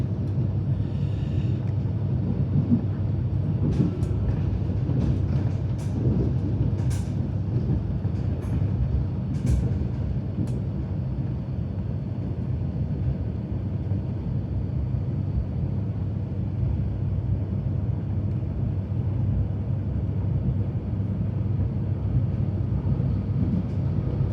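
A steady low rumble of a Melbourne Hurstbridge line train rolling along the track through bushland and around bends fills the whole stretch, with faint high squeals and clicks early on.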